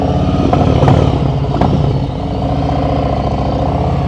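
Close motorcycle engine held at a steady low throttle during slow-speed riding practice around cones, a continuous loud rumble with a few slight blips, no talking.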